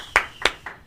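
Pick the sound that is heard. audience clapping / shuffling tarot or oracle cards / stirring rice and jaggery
audience clapping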